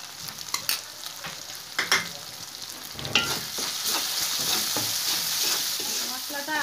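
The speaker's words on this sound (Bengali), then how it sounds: "মশলাটা আমি কষাই করে নিয়েছি" Spice paste with turmeric and salt for shrimp kofta curry fries in a pan. A spoon clatters and scrapes at close range as the sizzle builds into a steady loud hiss.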